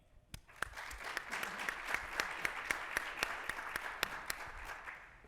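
An audience applauds to welcome panelists at a carbon markets discussion, a steady wash of clapping with a few sharp, louder individual claps standing out throughout.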